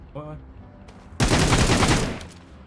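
Rapid gunfire erupts in PUBG Mobile after a few quiet game sounds, a dense burst of shots lasting about a second, loud and close.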